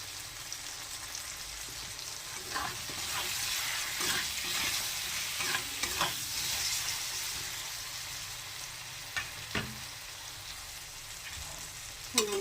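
Spiced cabbage sizzling in a pan while a utensil stirs it, a steady frying hiss broken by scattered scraping and clinking strokes, with no talking.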